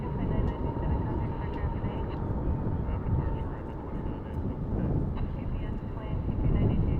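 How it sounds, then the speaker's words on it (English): An Airbus A380 lands at DFW International Airport, giving a continuous broad jet roar that holds steady throughout, with voices talking over it. "Nice, a firm but good landing for that A380."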